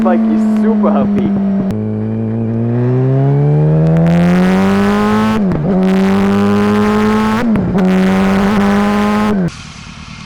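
A Yamaha R1 sport bike revving hard while ridden on the road, its engine note climbing steadily through the gears with sharp shift breaks, loud and close, ending abruptly.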